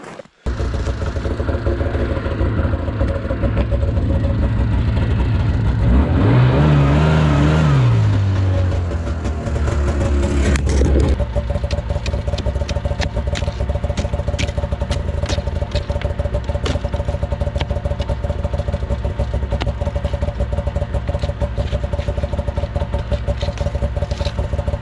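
A snowmobile sled on a frozen lake sputters into life close by, a sharp rising rev around the sixth second before settling into a steady, loud idle rumble that carries on alone for the rest of the clip.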